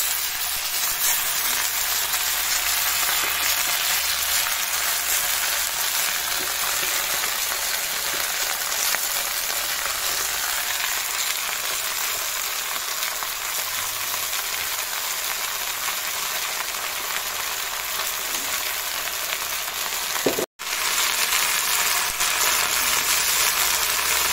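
Sliced potatoes and lai (mustard) greens fry in a pan while being stirred, giving a steady, dense sizzle that continues for the whole stretch with only a brief dropout near the end, and no voices.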